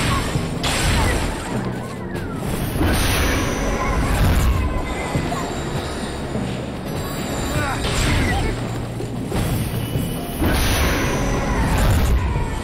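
Enemy shots and impacts in the retro action game Retro Guardian Joe, repeated bangs and crashing hits in loose bursts over a busy mechanical game backdrop.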